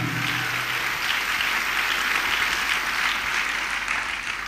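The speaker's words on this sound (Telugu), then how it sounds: "అందరూ సంతోషంగా చప్పట్లు కొట్టాలి" A church congregation claps together in a dense, steady burst of applause that stays loud and even throughout, with no voices rising above it.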